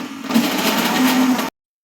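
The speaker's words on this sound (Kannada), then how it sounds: "ಅದನ್ನೊಂದು ಮಿಕ್ಸಿ ಜಾರ್ಗೆ ಹಾಕ್ಕೊಳ್ಳೋಣ." An electric mixer grinder whirs steadily in a kitchen as it blends cooked greens in a mixie jar, a loud continuous motor hum that stops abruptly.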